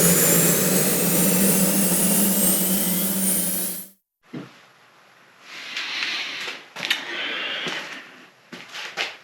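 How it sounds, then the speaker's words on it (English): An air compressor run cold, filling a tire through a 3/8 inch line, a loud steady droning roar with a whining tone that stops suddenly, followed by quieter intermittent hissing and clunking sounds. "we're gonna start the 3/8 with a very, very cold compressor"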